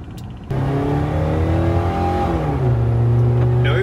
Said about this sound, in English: We're trying to guess if it's running on 3 or 2 cylinders at idle.